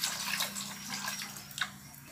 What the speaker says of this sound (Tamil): இதில் ஒரு 400 ml தண்ணி எடுத்து வச்சுருக்கேன்